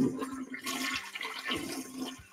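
A toilet flushes in a single rushing surge of water that swells and drains away, fairly close and heard alone without any voices.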